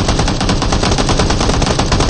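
Automatic gunfire in the video game PUBG Mobile rattles off as loud, rapid, evenly spaced shots in one continuous burst, with no speech.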